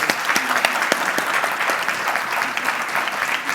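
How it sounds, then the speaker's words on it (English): Steady applause from an audience at a DC Council education forum, dense clapping continuing evenly throughout without voices. "A big round of applause for our candidates."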